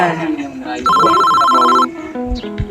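A phone rings in a single steady electronic burst lasting about a second, with voices talking just before and after.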